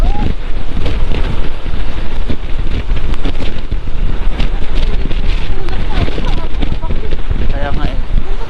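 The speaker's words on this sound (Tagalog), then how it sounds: "Ang lakas ng hangin." Strong wind buffeting the microphone during a motorcycle ride, a loud constant roaring rush throughout, with voices talking faintly beneath it.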